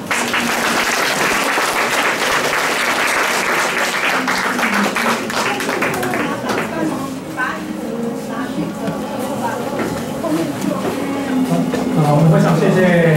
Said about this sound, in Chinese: 我们再次以热烈掌声欢迎他